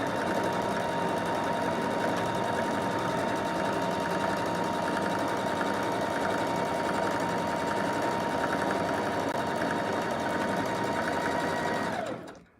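A sewing machine stitches scrunchies in one continuous, even run of rapid mechanical whirring, close and steady, then stops abruptly at the end.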